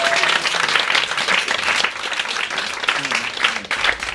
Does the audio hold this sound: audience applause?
yes